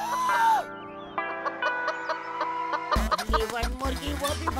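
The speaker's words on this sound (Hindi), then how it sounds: "सारी की सारी मुर्गियाँ जंगल में भागी जा रही हैं।" Cartoon chickens cluck and squawk in quick, choppy bursts, loud and close. Bright musical tones and sound effects play along with them.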